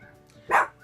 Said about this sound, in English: There's an dog outside barking that Django can hear, so he's barking at that dog.